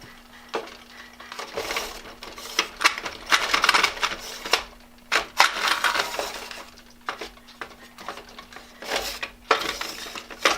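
A batch of metal screws, straight-bit and Phillips wood screws, is handled and sorted in a workshop, giving bursts of bright clinking and rattling as they are poured and shuffled, loud and close, with short pauses between.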